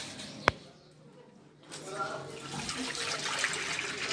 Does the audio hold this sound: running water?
yes